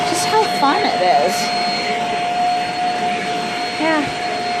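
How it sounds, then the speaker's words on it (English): A Shark vacuum cleaner runs in a home with a loud, steady whine and airflow roar, while a person talks over it. "That's why I thought I'd demonstrate how amazing this vacuum is."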